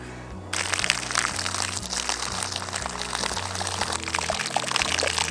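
Beer gushing under pressure from a keg being repurposed for a DIY barbecue, a loud continuous foamy pour with a sputtering, pulsing rhythm that starts suddenly after a brief quiet moment and carries on outdoors.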